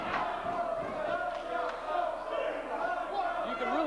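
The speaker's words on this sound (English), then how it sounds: "What a vocal crowd we have on hand tonight" A loud, vocal crowd fills an NCW wrestling arena during a Blackout versus Caprice Coleman and Sweet Dreams tag match, a steady roar of shouts and chatter with no letup.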